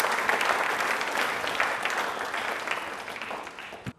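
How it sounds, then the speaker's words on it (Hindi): Audience claps at a televised Ambedkar Jayanti programme, a dense, steady burst of clapping that slowly thins and ends abruptly. "एक बार वापस से हम तालियां बजाएंगे बाबा साहेब के लिए"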